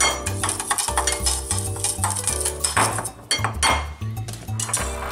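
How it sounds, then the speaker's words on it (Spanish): Sugar and ground cinnamon mixed together in a small dish, with a spoon clinking and scraping rapidly against the bowl under background music, close and continuous. "Y un poquito de canela molida. Lo vamos a mezclar bien."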